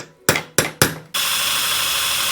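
A power drill boring into aluminium for a camper's solar panel mount: three short sharp bursts in quick succession, then a loud steady whine of continuous drilling, close and alone.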